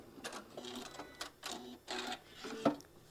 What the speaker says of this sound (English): I'm just going to stitch all the way till I get to my other little line that I marked